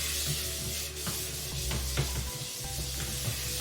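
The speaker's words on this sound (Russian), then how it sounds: "разогретую сковороду смазываю небольшим количеством подсолнечного масла" Steady sizzling hiss of sunflower oil on a hot non-stick frying pan, close and continuous, with faint scraping and small clicks.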